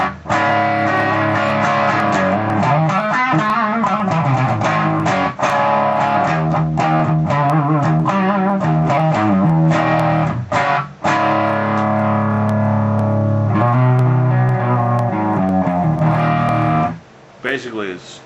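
An electric guitar through a crunchy amp model on a Digitech RP255 plays sustained chords and riffs, loud and continuous, ending abruptly near the close.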